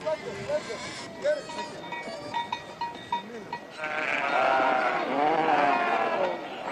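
Sheep and goats bleating at a desert well, a run of wavering calls overlapping and swelling into a dense, loud chorus of the herd in the second half, with scattered bleats over a busy background at the start.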